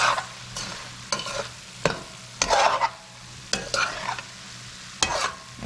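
Shrimps, potatoes and tomatoes fry in a pan with basil, sizzling steadily while a utensil stirs and scrapes in bursts about once a second, close and clear with no talk.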